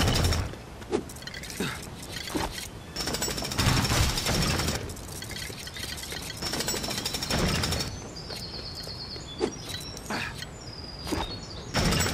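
Rapid mechanical hammering in the LEGO City Undercover video game, loud repeated pounding bursts with brief pauses, mixed with clanks and high game chimes.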